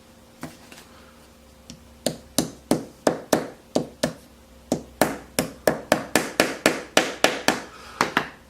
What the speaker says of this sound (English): So I'm just going to tap these little piece of dowels into the holes.